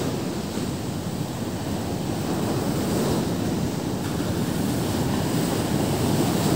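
Sea waves crash around two small fishing boats heading out past the surf: a constant, loud roar of breaking water mixed with strong wind buffeting the microphone, with no voices.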